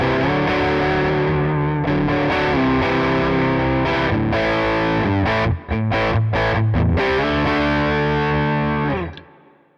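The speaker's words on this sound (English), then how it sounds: "you can hear it's really pushing a way more gain than we were getting before" A high-gain distorted electric guitar played through an amp capture chugs and sustains thick chords with brief choppy stops midway, loud and close, with no voices.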